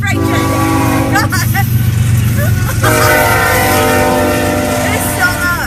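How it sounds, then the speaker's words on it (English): A loud freight train rushes past close by, its horn sounding in long tonal blasts over a steady heavy rumble that fills the whole stretch, with voices heard faintly under it. "It's a freight train."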